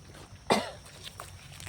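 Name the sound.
coughing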